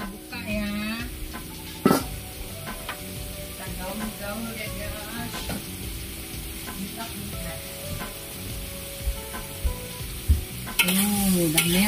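Red prawns sizzle and fry steadily in a pan with onion in soy sauce, a constant crackling hiss with occasional stirring clatter and a sharp utensil knock, while a voice talks intermittently over it.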